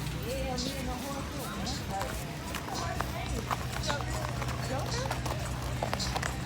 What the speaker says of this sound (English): I'm riding the horse.